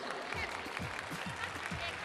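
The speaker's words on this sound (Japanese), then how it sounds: "田村選手が良かったと思う方は田村選手のところで拍手。" Fans at a Chiba Lotte Marines fan appreciation day stage event clap in a faint, distant, scattered burst, with an announcer's voice speaking over it.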